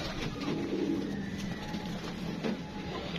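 Pigeons coo steadily and fairly close, with a soft continuous low warble and no voices over it.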